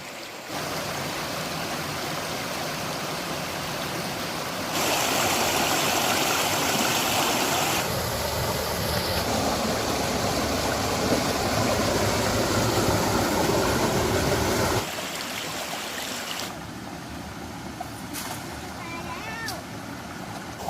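Waterfall and stream water rushing steadily through a valley, a loud continuous broadband roar that shifts in level partway through, with people talking faintly in the background.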